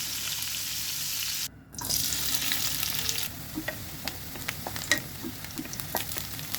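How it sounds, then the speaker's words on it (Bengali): Steady sizzling of turmeric-and-salt-coated prawns frying in hot oil, close and continuous, with a brief dip partway through and scattered crackles and pops. "লবণ আর হলুদ দিয়ে মাছগুলোকে মেখে নিলাম এখন তেলে ভেজে নেব"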